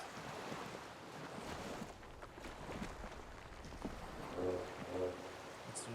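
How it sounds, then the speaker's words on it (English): Waves lap against a small skiff swaying beside a dock in the Disco Elysium game, a steady wash of water and wind noise with a few soft knocks near the end. "The skiff is swaying on the waves by the dock."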